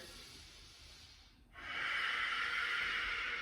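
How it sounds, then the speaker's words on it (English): Deep breathing during a gentle yoga session, a soft exhale tapering into a brief pause, then a long, strong, close-miked airy inhale or exhale that continues steadily to the end. "Take 2 breaths here."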